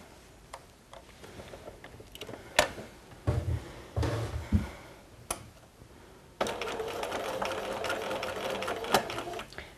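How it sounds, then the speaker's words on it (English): A sewing machine stitches a diagonal line across fabric from one corner to the other: quiet ticks and clicks build into short whirring bursts, then a steady continuous run of stitching, close and fairly soft with no talk. "using your sewing machine, you want to sew a line from one corner running across to the opposite corner"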